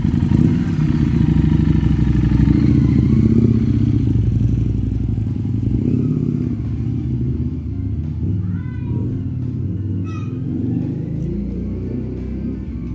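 Steady motorcycle engine drone on a casual ride, loud and continuous throughout with rumbling low-end and some rattling clatter, no voices over it.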